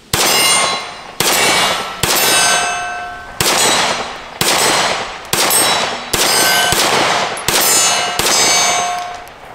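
A Taurus TS9 pistol fires a steady string of about nine shots at an outdoor range, each sharp crack followed by the bright ringing clang of a steel target, evenly spaced about a second apart. No talking is heard.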